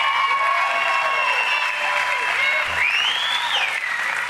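A crowd at a Trump event in Texas claps and cheers in a dense, sustained roar, while someone speaks over the applause throughout.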